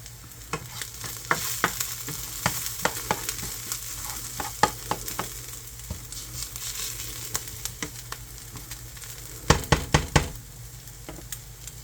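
Onions frying in a skillet while a beef and cabbage dinner is cooked, with a steady sizzle broken by sharp scraping and knocking stirs that grow loud in a cluster near the end, no talking.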